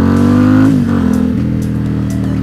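A Ducati XDiavel motorcycle pulls away through traffic, its engine loud and close, pitch climbing through a gear before dropping and settling into a lower steady drone.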